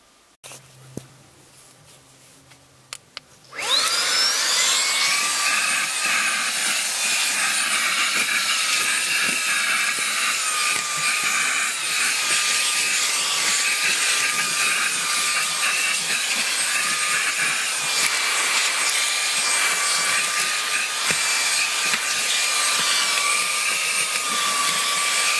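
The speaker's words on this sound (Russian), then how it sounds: "давайте я включу нарезочку по уборке с помощью этого пылесоса" A Baseus A3 cordless car vacuum cleaner runs steadily after a short quiet start, its loud, continuous high-pitched motor whine and airflow hiss holding nearly unchanged until the end.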